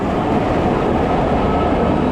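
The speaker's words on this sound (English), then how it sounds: "Look at the old tram." An old tram rolling along a busy street in Rome, giving a steady, loud rumbling roar with rail noise, close by and continuous, with no voices heard.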